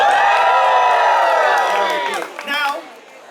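A live audience at a tabletop role-playing show cheers and whoops loudly, many voices shouting and rising in pitch together, then tapering off with a few scattered cries.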